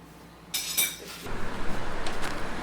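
Small metal forks clink against dishes in a breakfast setup in Kyoto, Japan, with a bright chime early on followed by a run of faint, quick clatters close by.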